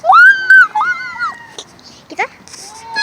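A child imitates a seagull call in a few squealing, rising-and-falling cries, close and loud, with chatter and other voices around it while seagulls are fed outdoors.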